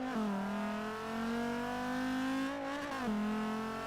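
A Dodge Viper SRT's large gas engine in the racing game Forza 6 drones loudly at steady revs, dips briefly as the pitch drops, then climbs again, a continuous synthetic engine tone with no talk.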